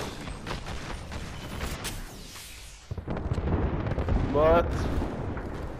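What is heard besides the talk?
airstrike explosions in video game Apex Legends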